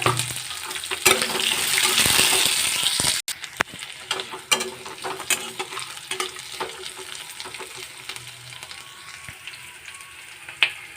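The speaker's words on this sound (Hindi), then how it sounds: "एथरे कटा रखि गोटे पियाज को ऐड करदेली भल भाव में मिक्स करना" Chopped onion fries in a pan with dried red chillies for an Odia tomato khata, a steady loud sizzle at first, then a spoon scraping and stirring with repeated clicks over a softer crackle.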